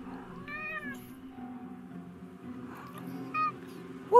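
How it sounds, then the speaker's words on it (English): A blue winged cat in the video game Forspoken gives several short, tonal meows, one early and louder ones near the end, over a soft low background hum. "What kind of cat is that?"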